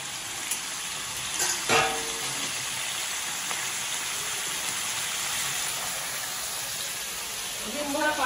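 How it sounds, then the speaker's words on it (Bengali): Cauliflower and potatoes fry in hot oil in a home kitchen, giving a steady close sizzle throughout with a few scraping clinks from a utensil and talk over it. "ফুলকপি আলু দিয়ে বড়ি দিয়ে ট্যাংরা মাছের ঝোল হবে, তাই ফুলকপি আলু ভাজা হচ্ছে"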